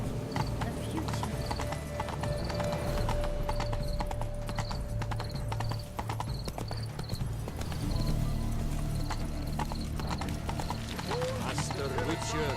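Horse hooves gallop in The Witcher 3: Blood and Wine, a fast, steady clip-clop rhythm running throughout under game sounds, with a horse whinny and people talking over it.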